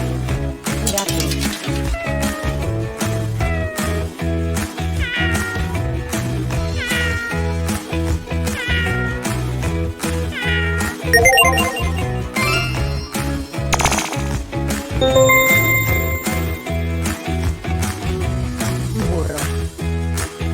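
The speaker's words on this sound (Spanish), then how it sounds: "Gato." A cartoon-style cat meows in a children's animal-names song, a few mewing calls riding over constant upbeat music with bells and percussion.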